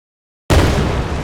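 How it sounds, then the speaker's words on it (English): A video game explosion effect being designed, heard as a single loud, sudden blast after half a second of silence, with a sustained, rumbling tail that fills the rest of the moment. "actual explosion and the timer, right."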